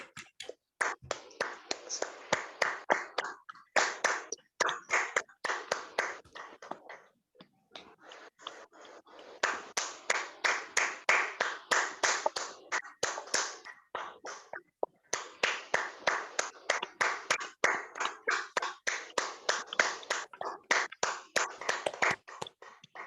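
Hand clapping from participants in an online workshop certificate presentation, rapid rhythmic claps in several sustained runs with brief pauses, fairly close and moderately loud.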